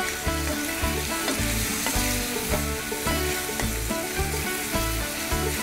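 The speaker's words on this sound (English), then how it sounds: "We'll just go ahead and sear." Shrimp sear in a hot pan with a dense, continuous sizzle, overlaid by an even, rhythmic pulsing pattern.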